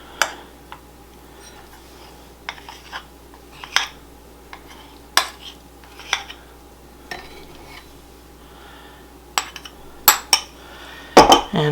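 Warm water and honey whisked together in a stand mixer bowl, heard as scattered metallic clinks and scrapes of the whisk against the bowl, with irregular bursts growing busier toward the end over a quiet background.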